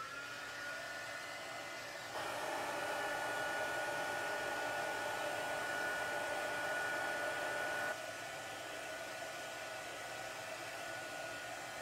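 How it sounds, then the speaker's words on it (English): Crafting heat tool switching on with a steady, loud blowing whoosh of hot air and a faint whine, running for several seconds before cutting back to a quieter background hum. "I'm about to turn on the heat tool again."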